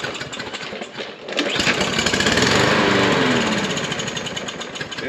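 A lawn mower engine that won't start, primed with starter fluid and pull-started; after a quieter start it catches and runs loud and steady, a near, continuous mechanical roar with a slight rise and fall.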